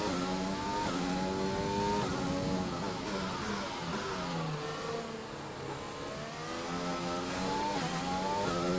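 Formula 1 race car engine in the F1 2020 video game on the final lap of the Azerbaijan Grand Prix: a loud, high revving whine climbing through gears with repeated shifts and short dips, steady and close throughout, with no talk.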